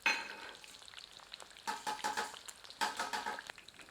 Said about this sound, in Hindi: अब इसी तेल में प्याज की खुली हुई फांकियों को तलते हैं।